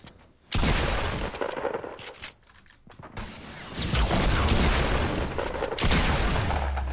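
Pump shotgun shots in a Fortnite Battle Royale match, two loud, close blasts a few seconds apart with a short pause between them, each one sustained and noisy.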